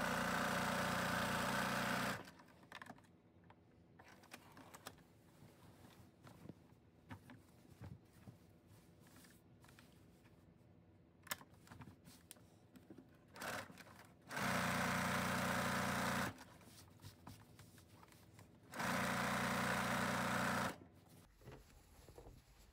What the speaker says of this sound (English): I started sewing from the middle out to the edge, and I'm sewing the same direction each time rather than turning the quilt around.